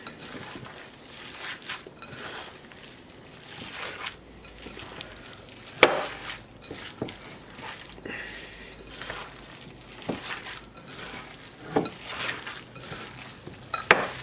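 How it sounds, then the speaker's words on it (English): Wet mixture containing raw rice being worked and squeezed by hand, giving soft, squelchy, irregular bursts of mixing close up with no talking. "I do prefer to use my hands when mixing anything like this"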